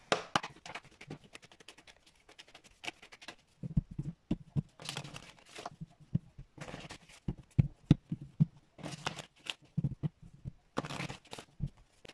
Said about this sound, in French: Je vais procéder au brassage des cartes.